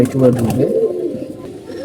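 A domestic pigeon coos close by in a short, low, throaty burst that fades quickly, with a voice sounding faintly alongside.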